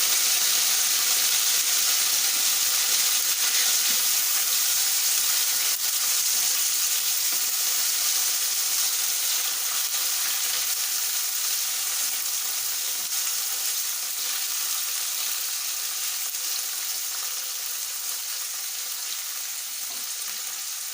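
Onion sizzles loudly in a little hot used oil for paneer do pyaza, a dense steady frying hiss that continues unbroken throughout and eases slightly toward the end.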